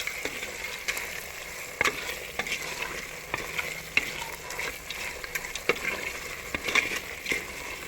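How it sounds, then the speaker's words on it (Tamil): Dried anchovy pickle being stirred in hot oil, with a steady sizzle and frequent sharp scrapes of a spoon against the pan, no voices. "போட்டுட்டு ஒரு தடவை நம்ம இப்படி கிளறி விட்டுருவோம்."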